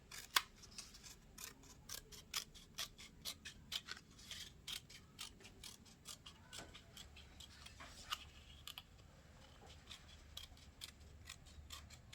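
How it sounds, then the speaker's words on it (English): Scissors trimming excess paper off the lid of a handmade round gift box, a long series of quick, crisp snips in an uneven rhythm, close and quiet with nothing else heard. "Using your scissors, you will trim the excess off, leaving a few millimeters to fold onto the lid strip."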